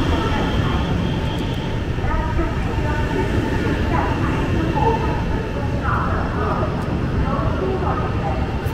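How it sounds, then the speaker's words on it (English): A Chinese bullet train pulls up at a station platform, making a loud, continuous rumble and whoosh with faint mechanical whines, while voices are heard over it. "Our train arrived."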